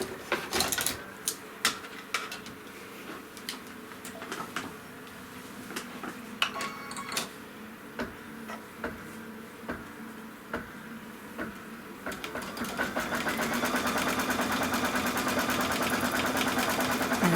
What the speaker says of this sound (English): we're going to put the hoop back on the machine, and what it's going to stitch now is a fabric tack down